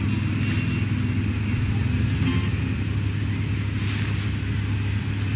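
Car engine rumbling steadily in the Tales from the Borderlands video game as a ride is brought up, a continuous low drone with a couple of brief whooshes, fairly loud throughout.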